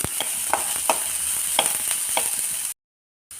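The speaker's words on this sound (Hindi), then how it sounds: "अब इसमें हम अपना कटा हुआ शिमला मिर्च और प्याज डाल लेंगे, इन्हें भी अच्छे से फ्राई कर लेंगे।" Chopped capsicum and onion sizzle in a pan for veg Manchurian, a steady close hiss with a few scraping stirs, then a sudden cut to silence before the sound returns.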